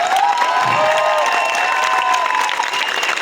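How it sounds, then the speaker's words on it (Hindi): A rally crowd claps and cheers steadily and loudly for a few seconds, with scattered shouts over the dense applause. "तुम 1 करोड़ को ढूंढ रहे हो, ताली बजा दो ढंग से।"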